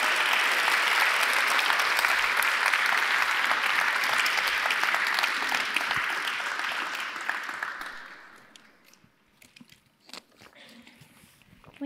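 An audience at EF Academy Pasadena applauds after a talk on well-being for teens, full loud clapping that holds for about eight seconds, then fades to a few scattered claps and near quiet.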